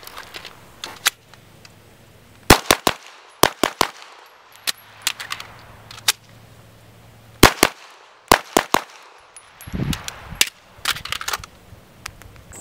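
CZ EVO3 9mm carbine firing outdoors, sharp loud reports in quick bursts of two to four shots separated by pauses, with faint handling noises and a brief low rustle between volleys.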